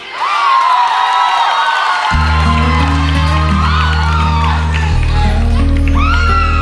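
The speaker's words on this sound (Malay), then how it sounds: "Tepukan untuk Fina" A loud concert audience cheers and whoops for a contestant singer at a televised reality singing competition concert, the crowd noise sustained throughout as low musical accompaniment swells in beneath it partway through.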